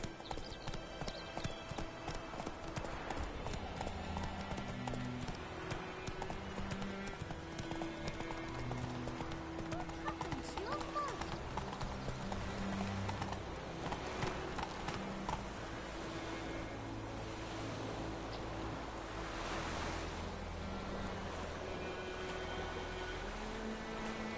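A horse in The Witcher 3 gallops in a fast, steady clip-clop of hooves that runs throughout, with music playing underneath and the rhythm easing off near the end.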